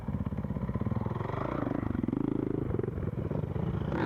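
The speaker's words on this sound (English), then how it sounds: "Nice move, sliding the motorcycle and keeping it right where he wants and getting around the traffic." Off-road motorcycles race on a GNCC cross-country course at Snowshoe in 2014, with a loud, close engine buzzing continuously and clattering as a bike slides through traffic.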